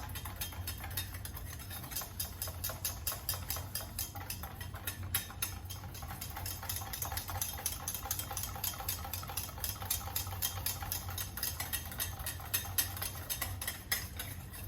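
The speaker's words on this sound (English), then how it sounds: "You're just going to whisk it together until it's all nice and smooth" Coffee syrup ingredients whisked until smooth, a fast, even ticking of the whisk against a bowl that repeats steadily and close throughout, fairly quiet, with a low hum underneath.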